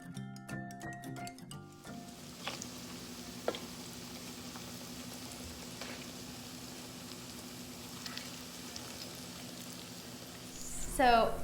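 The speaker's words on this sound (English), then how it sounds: "they have been frying for about 3 minutes on each side" A quiet, steady sizzle of vegan artichoke patties frying in oil continues throughout, with a brief clatter at the start and a short rustle near the end.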